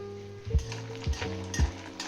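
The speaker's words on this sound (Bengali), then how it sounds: "এবার বড়ি ভেজে নেব" Lentil dumplings (bori) frying in hot mustard oil give a steady close sizzle, with three soft thumps of stirring at regular intervals.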